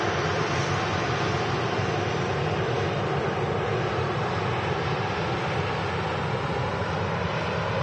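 A TUI Boeing 737-800 with split scimitar winglets roars steadily at Manchester Airport, a loud, continuous broadband jet engine rumble that holds constant with no talk.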